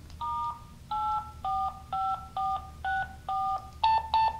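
A string of eight short telephone keypad tones entering a security code on a Viking Electronics K-1900-5 beeps in steady succession, each a clear dual-pitch blip, the last two slightly different and louder.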